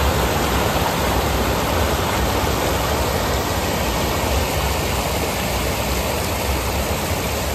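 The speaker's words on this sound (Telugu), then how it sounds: "మనం ఆల్మోస్ట్ ఆ వాటర్ ఫాల్స్ దగ్గరికి అయితే వచ్చేసాము" Ethipothala waterfalls roar as a dense, steady wash of broadband rushing water, loud and constant with no breaks or other sounds.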